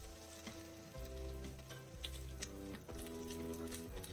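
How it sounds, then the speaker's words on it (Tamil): Small onions and curry leaves fry in hot oil, giving a steady close sizzle with scattered ticking pops and occasional stirring scrapes, heard alone over a faint musical tone. "சின்ன வெங்காயம் நல்லா வறுக்கணும்."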